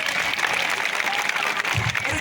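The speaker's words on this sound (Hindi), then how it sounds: "एक बार जोरदार तालियों से।" Loud, sustained applause from a crowd at a Birsa Munda martyrdom day gathering, dense and continuous throughout, with a voice carrying over the clapping.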